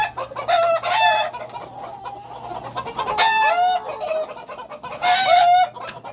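Yellow pit gamefowl roosters crow three times in close succession, loud and near, with soft clucking between the calls.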